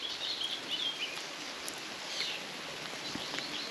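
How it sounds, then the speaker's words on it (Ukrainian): Rain falling beside a small stream, a soft, steady patter and hiss with faint scattered drops and a few thin bird chirps in the background. "Дощ паде, хлопці."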